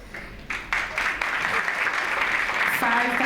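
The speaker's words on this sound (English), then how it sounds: "Applause." Audience applause at an award ceremony announcing a winner, a steady wash of clapping that swells after a moment and holds at a moderately loud level, with a faint voice or tone near the end.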